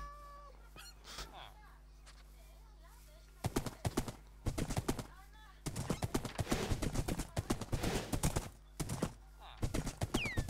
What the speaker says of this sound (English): Anywhere I can put my horse in this village